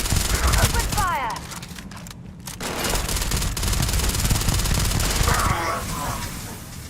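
Gunfire in the video game Starfield: sustained automatic weapon fire and overlapping shots, loud and dense across the whole stretch with a brief lull, accompanied by a voice and game effects.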